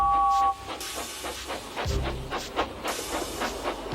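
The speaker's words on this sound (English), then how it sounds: "Slowly but surely, the snorting engines forced the freight cars up the hill." Animated steam locomotives hauling freight cars uphill, with a loud hiss of steam followed by a run of rhythmic, evenly spaced chuffs close by and no voices.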